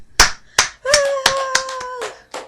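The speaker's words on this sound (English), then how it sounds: "Was that one slow clap again?" Isolated, deliberate hand claps land one after another at a slow, uneven pace, close and crisp, with a few voices talking and laughing between them.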